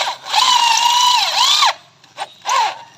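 A power drill with a Phillips bit whines steadily at high pitch for over a second, winds down, then gives a brief blip and one more short burst.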